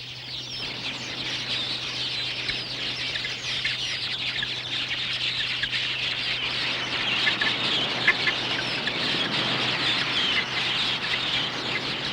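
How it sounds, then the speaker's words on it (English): A large flock of quelea birds at an African waterhole, a dense, continuous wash of chirping and fluttering that stays loud and steady throughout, with no voices. "A flock of quilias makes a hit-and-run raid on the waterhole"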